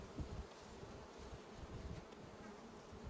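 A captured honeybee swarm buzzes steadily in damp conditions, a faint, even, continuous drone of many bees with occasional individual insects rising briefly above the hum.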